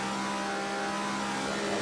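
Race car engine in Assetto Corsa, a loud sustained high-revving drone with strong steady harmonics, slightly rising at the end, close and continuous with no talking.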